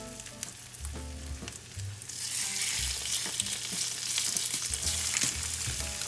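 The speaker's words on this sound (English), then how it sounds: "There's that sizzle. That's what we want to hear." Loud, steady sizzling of chicken frying in a hot pan, crackling and spitting continuously, with a few clinks and taps in the background.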